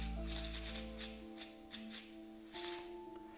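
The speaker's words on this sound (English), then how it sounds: "you can release the pressure and the cards will shuffle themselves in a bridge like this" A deck of playing cards is bridge-shuffled, giving soft papery riffling bursts that come in a few quick waves with short pauses, close and alone over a steady low hum.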